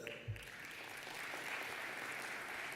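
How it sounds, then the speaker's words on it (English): An audience at the KwaZulu-Natal Provincial Film Indaba applauds steadily, a continuous wash of clapping from many hands that holds at an even level for the whole stretch. "Clap for that."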